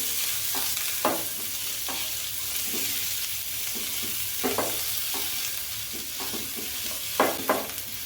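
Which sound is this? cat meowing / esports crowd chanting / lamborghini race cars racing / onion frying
onion frying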